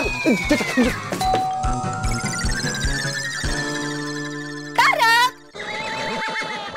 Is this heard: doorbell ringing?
yes